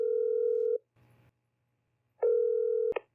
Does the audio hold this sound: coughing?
no